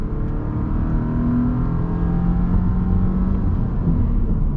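Engine of a 2024 Subaru Impreza RS pulling hard under full throttle, a steady loud drone with a rising tone held throughout, no talking over it.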